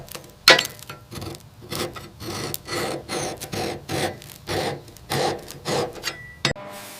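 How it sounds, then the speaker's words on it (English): Old paint being scraped from a rusty metal surface on an abandoned 1973 Caterpillar D8K bulldozer, a close series of about a dozen rough rasping strokes in a steady back-and-forth rhythm, with no talk. "Scrape, scrape."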